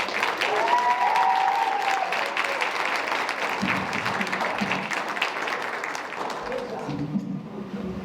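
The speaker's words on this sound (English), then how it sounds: "Give them a round of applause." At a winter school-district commencement ceremony, the audience applauds graduating students with a full, sustained burst of clapping that tapers slightly near the end, with some voices underneath.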